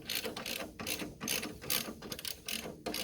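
Ratchet wrench clicking on a 15 mm bolt at the bottom shock mount of a 2019 Can-Am Defender XMR, rapid pawl clicks in repeated bursts with short pauses, close and clear, no talking.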